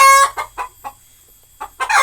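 Chickens on a poultry farm raising young chicks: a burst of loud, close clucking and squawking in quick repeated calls, a short lull, then more clucks rising to a strong final cry.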